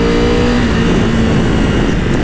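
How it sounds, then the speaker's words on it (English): A Triumph Tiger 1200 GT Explorer's three-cylinder engine revs loudly and steadily up close, with a rising tone and no speech. "it seems like the kind of engine that really wants to be revved up."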